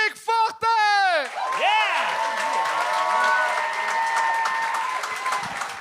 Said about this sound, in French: on accueille avec un tonnerre d'applaudissements le premier